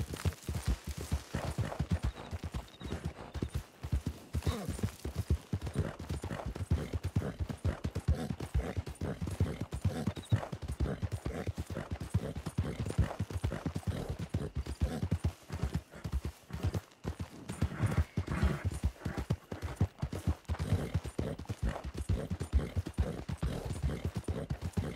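Horse hooves clop steadily in the Red Dead Redemption roleplay game RedM, a continuous brisk clip-clop rhythm close up, dense and unbroken for the whole stretch with no speech over it.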